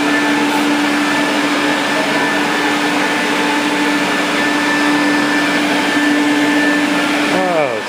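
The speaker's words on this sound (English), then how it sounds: "And we're vacuuming." A Quantum X vacuum cleaner runs steadily and loudly throughout, its constant motor whine holding a sustained tone before a brief pitch shift near the end, as someone talks over it.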